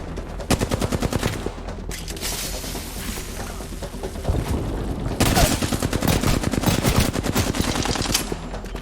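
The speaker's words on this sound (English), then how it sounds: "But the sound of distant gunfire distracted me from my grievances." Sustained bursts of automatic gunfire in the battle royale shooter Apex Legends rattle on almost without pause, loud and dense, with heavier volleys swelling in the second half and no speech.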